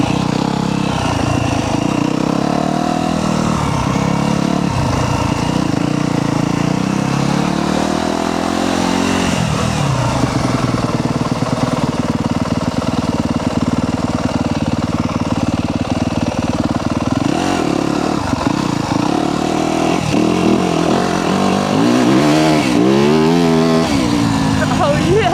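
A Yamaha YZ250F four-stroke dirt bike revs and accelerates on a street during wheelie practice, its engine rising and falling in pitch through repeated pulls, with a rider's voice heard over the bike.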